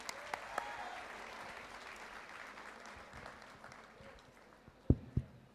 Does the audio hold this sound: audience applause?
yes